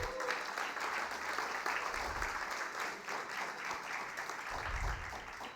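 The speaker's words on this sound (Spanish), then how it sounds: "Denle un aplauso a Jesús." Congregation applauding at a church service, a steady broad wash of clapping filling the whole stretch at moderate distance, with low rumbles underneath.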